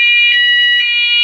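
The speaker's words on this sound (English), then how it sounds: "So let's say the fire alarm went off." A fire alarm sounds during a fire drill, a loud, piercing electronic tone that pulses continuously and close by, with no voices.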